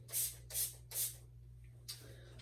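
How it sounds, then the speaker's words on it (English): Three quick hissing sprays of leave-in conditioner from a pump bottle onto hair in steady succession, a pause, then a fourth shorter spray, close by. "Just kind of spray that all over."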